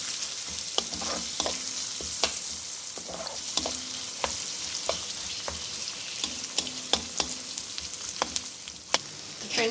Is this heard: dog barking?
no